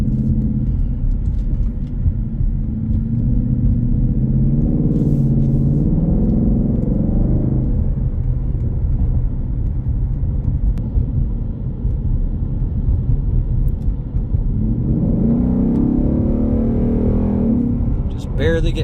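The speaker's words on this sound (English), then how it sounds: "Barely getting on it so you can hear that exhaust." 2023 Ford Mustang GT Premium with a Roush exhaust and track package, driven on the road with a deep throaty exhaust rumble that swells twice under light throttle, loud and close from inside the cabin.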